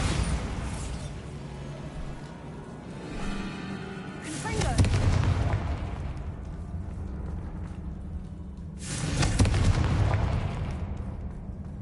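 Bombarda spell explosions in the video game Hogwarts Legacy, two loud booming blasts several seconds apart, each with a crackling, debris-like decay over a low ambient game background.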